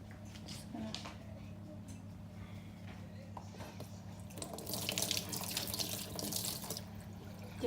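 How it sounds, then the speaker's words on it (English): Tap water runs into a sink while hands are washed, a steady close splash that grows louder and brighter toward the end as hands move under the stream. "just washing my hand because I touched the bacon"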